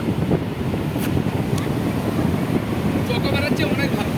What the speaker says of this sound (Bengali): আর একটা বড় ঢেউ আসছে